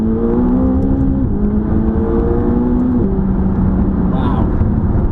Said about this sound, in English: Let's see what the 570 GT is capable of as a supercar.